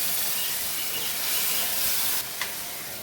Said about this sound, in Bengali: এ পর্যায়ে আমি মশলার সাথে একটু পানি অ্যাড করব, কিছুটা পানি।